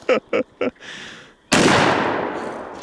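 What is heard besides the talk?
gunshots fired at targets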